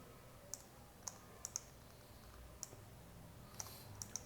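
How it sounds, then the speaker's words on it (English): A password is typed on a computer keyboard in a quiet room, giving about nine faint, sharp key clicks at an uneven pace over a low background hiss. "I'm gonna type my old password."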